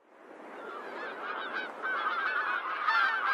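Cartoon ducks honk and squawk in a steady, nasal chorus that builds in loudness over a few seconds, loud and up front with no voices over it.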